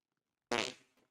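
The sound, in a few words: fart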